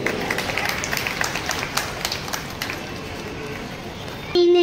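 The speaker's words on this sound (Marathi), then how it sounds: "एकदा जोरदार टाळ्या होऊन जाऊन दे." An audience at a Satyanarayan mahapuja gathering in Mumbai applauds a poet coming on stage, a burst of scattered hand claps that thins and fades before a sharp sound cuts in at the end.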